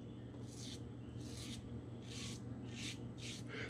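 A Razorock Lupo .95 safety razor scrapes against the grain in six short, quiet, rhythmic strokes. Each stroke is a brief raspy rub over a low, steady background hum.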